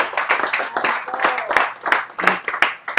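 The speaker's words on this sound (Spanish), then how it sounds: "Dale el aplauso al Señor" Congregation clapping for the Lord during a church service, a steady run of sharp handclaps mixed with voices talking and calling out over them.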